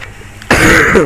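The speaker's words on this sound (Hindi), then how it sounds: "थोड़ी खांसी हो गई, माफ़ करना।" A single harsh, loud cough bursts out close by after a brief quiet moment, during play of the video game Granny Chapter 1.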